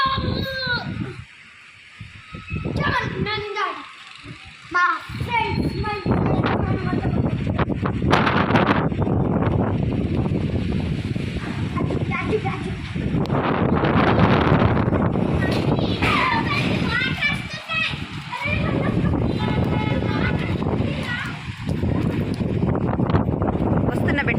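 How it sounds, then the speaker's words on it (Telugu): Strong wind buffets the microphone in heavy, uneven low rumbles that swell and fade over about twenty seconds, mixed with people talking, including children's voices. "ఎంత గాలి అంటే ఓవర్ గాలిగా ఉంది తెలుసా"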